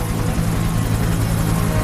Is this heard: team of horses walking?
no